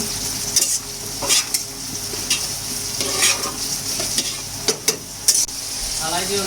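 Pre-fried chicken being stirred into Bengali-style khichuri in a pan, with a spoon scraping and clacking in repeated strokes over a steady close sizzle.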